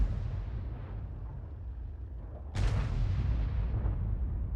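T92 HMC self-propelled artillery firing a shell in World of Tanks, one heavy boom that cuts sharply through a steady low rumble midway and then rolls on in a long, loud decay.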